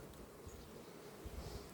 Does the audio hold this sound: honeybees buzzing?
yes